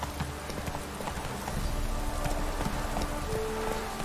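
In The Witcher 3, a galloping horse's hooves drum in a quick, steady rhythm while rain patters constantly over everything, with a low rumble underneath.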